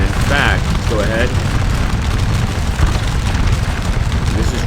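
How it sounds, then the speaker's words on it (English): Cannon fire across a Napoleonic battlefield in the Scourge of War Waterloo video game: a dense, continuous booming rumble with overlapping blasts that fills the whole stretch, heavy in the low end. "This is just our cannons"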